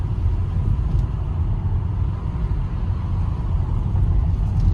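A car in third gear cruising at about 23 mph on a Bromley suburban road during a driving lesson, giving a steady, close low engine and road rumble that holds even throughout with no talking.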